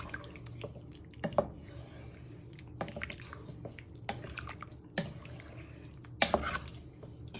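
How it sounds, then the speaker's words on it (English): Minestrone soup is stirred in a pot: quiet, close wet squelches and occasional scrapes of a spoon against the pot come at irregular intervals. "Give it a little bit of a stir, just in case anything has stuck to the bottom"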